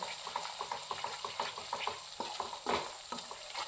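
Coriander powder, cumin powder and garam masala roast together in a pan for palak paneer. A quiet, rhythmic scraping of steady stirring sits over a soft sizzle, with no talking.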